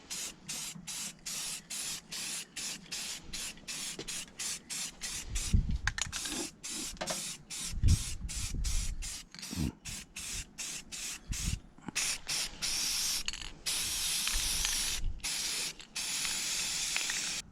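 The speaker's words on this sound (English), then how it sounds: "So I'm gonna go ahead and paint this." Rust-Oleum silver metallic spray paint hisses from an aerosol can onto engine and transmission parts in bursts of steady spraying broken by short pauses, close and loud, with light handling knocks in between.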